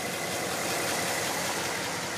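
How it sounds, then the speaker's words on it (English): The V8 engine of a 1958 Edsel Pacer idles steadily nearby, a continuous rough mechanical churn with a broad hissy top and even loudness throughout, no one talking. "This engine's V8 runs beautifully."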